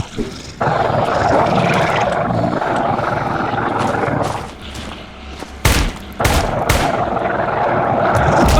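Gunfire and creature noise from the survival horror video game Darkwood: a dense, loud rumbling roar fills the scene, broken near the end by two or three sharp, booming shot-like bursts.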